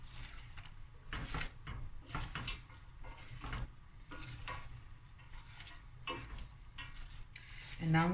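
Eight medium sliced onions go into a pot and start cooking, with soft stirring scrapes and light clatter over a low sizzle, close and fairly quiet.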